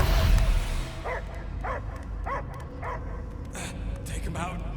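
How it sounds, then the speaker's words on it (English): A dog in the Guardians of the Galaxy video game barks in a series of about six evenly spaced yips and bow-wows over low ambient game rumble, following a brief louder burst at the start. "I hear only barking."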